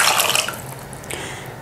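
Water being poured into a cooking pot of meat with garlic-ginger paste, salt and yogurt, a steady close splashing pour that tapers off into a softer trickle.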